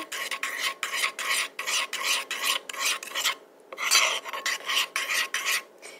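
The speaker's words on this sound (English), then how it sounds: "Add a pinch of pepper and stir that in." A spoon stirs crushed red pepper into a vegan sauce in steady, rhythmic scraping strokes, close and fairly loud. A short pause comes near the middle, then the stirring resumes.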